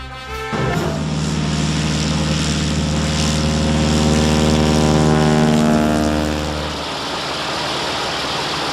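A propeller-driven fixed-wing aircraft takes off, its engine roaring loud and close with a rising, strongly tonal drone that holds steady, then eases slightly as it climbs away.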